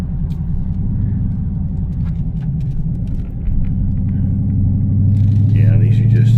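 A car engine rumbles low and steady from inside the cabin on a back road, the tone deepening and swelling toward the end as the engine pulls harder, with only faint irregular crackles suggesting exhaust pops.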